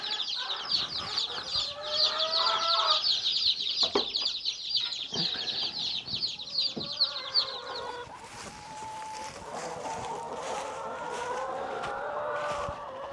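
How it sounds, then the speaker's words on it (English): Sex-link laying hens and young chicks in a farm coop: high, rapid peeping fills the first half, then lower, softer clucking continues at moderate distance with no speech. "we are checking out the new chicks and the old chickens"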